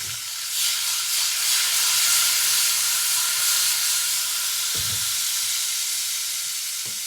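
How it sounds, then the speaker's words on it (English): Steady, loud sizzling and hissing of butter bubbling in a hot pan, continuous throughout with a couple of faint low knocks. "I'll wait until the butter has completely melted and stopped bubbling before I put the steak in"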